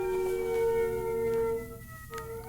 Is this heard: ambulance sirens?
yes